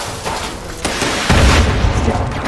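A super mutant's missile launcher round explodes in Fallout 76, a deep rumbling boom swelling midway through a dense, noisy game soundscape.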